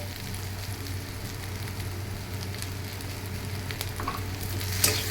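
Potatoes and tomato fry in a pan for sabudana pulao, giving a steady crackling sizzle with occasional stirring scrapes. The sound is close and moderate and rises slightly near the end, with no voices.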